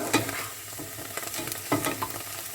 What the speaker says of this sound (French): On fait revenir les champignons.